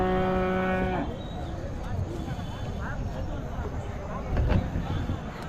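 Native breed calves at a bustling rural cattle market, a mooing call early on, then livestock and crowd noise with people talking nearby throughout.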